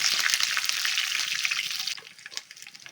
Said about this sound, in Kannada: ಕರ್ಬೇವಿನ ಸೊಪ್ಪು ಒಂದು ಕಡ್ಡಿ ಹಾಕ್ಕೊಳ್ತಾ ಇದ್ದೀನಿ ಜೀರಿಗೆ ಅರ್ಧ ಸ್ಪೂನ್ ಹಾಕೊಳ್ತಾ ಇದ್ದೀನಿ ಇದೆಲ್ಲ ಸ್ವಲ್ಪ ಫ್ರೈ ಮಾಡ್ಕೊಳ್ಳೋಣ